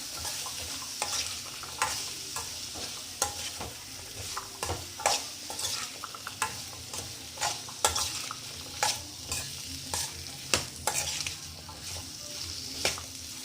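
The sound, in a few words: sautéing sliced carrots in a pan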